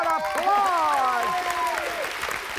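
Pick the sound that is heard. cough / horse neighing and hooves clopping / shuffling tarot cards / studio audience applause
studio audience applause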